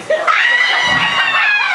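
A chicken gives a loud, high-pitched squawking call, close and agitated, drawn out over a couple of seconds.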